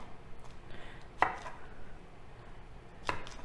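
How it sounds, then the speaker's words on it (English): A knife cutting a cauliflower stalk into small pieces on a board, a few sharp separate chops spaced over a quiet background, close and fairly soft. "just cut the stalk up into little pieces"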